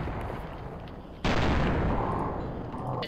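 Gunfire in Fallout: New Vegas: a loud, sustained burst of shots kicks in about a third of the way through and rolls on continuously, over a dense rumbling game background.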